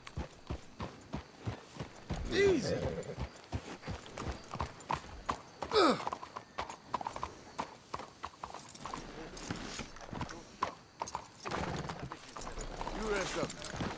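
Horses walk with steady, close clip-clopping hooves in the video game Red Dead Redemption 2, with an occasional snort and a voice calling out briefly.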